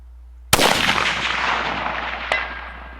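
A Howa rifle shot fired close and loud with a long rumbling decay, followed about two seconds later by a faint distant ring of the bullet striking a small steel plate target.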